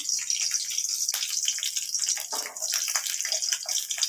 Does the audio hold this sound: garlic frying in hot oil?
yes